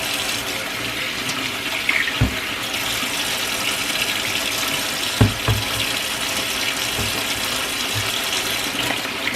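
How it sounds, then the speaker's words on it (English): Tap water runs steadily while hands are washed at a home kitchen sink, giving a continuous close hiss broken by a few soft knocks and splashes, with no talk. "let's wash our hands"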